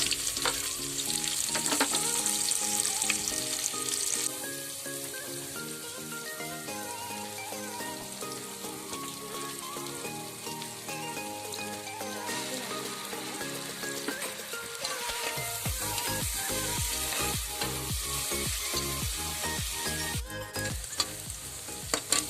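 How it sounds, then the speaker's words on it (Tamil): Cut onion frying with cinnamon, clove and cardamom in a pressure cooker, a continuous close crackling sizzle. Repeated scraping and knocking from stirring becomes busier in the second half, and nobody speaks. "ஒரு வெங்காயம் கட் பண்ணி வச்சுருக்கேன், அதையும் போட்டுக்கலாம். இதை நல்லா ஃப்ரை பண்ணிக்கலாம்."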